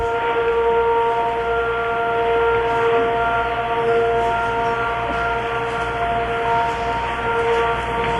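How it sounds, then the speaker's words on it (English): An air raid siren wailing over Riyadh, Saudi Arabia, during the 1991 Gulf War, a loud sustained steady tone with strong harmonics holding for the full duration, heard from fairly close with no voices over it. "the sound of air raid sirens tonight as war is underway in the Middle East"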